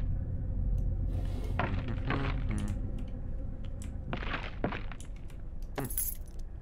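Keys jangle and clink in the horror game Layers of Fear, several metallic bursts over a low droning background, fairly close and with no talk.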